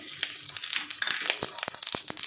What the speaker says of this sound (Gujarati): તેલ ગરમ થઈ ગયું છે, હવે તેમાં આપણે વ્હાઈટ તલ નાખી દઈશું